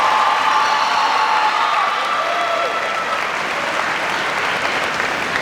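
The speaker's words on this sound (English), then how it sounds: "Let's give them a well-deserved round of applause." A graduation audience at a high school ceremony breaks into steady, dense applause, a loud continuous wash of many hands clapping with faint crowd murmur and no speech over it.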